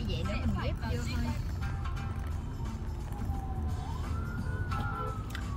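An ambulance siren wails along a road during a Lunar New Year trip to the countryside, its rising and falling tone riding over steady, loud traffic and road rumble.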